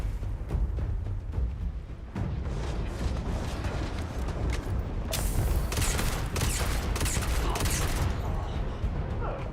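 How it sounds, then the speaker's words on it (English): Loud, rapid explosions and booming blasts in the video game Starfield pile up continuously, like a barrage of gunfire and detonations, dense and close throughout. "Stay away from these explosions."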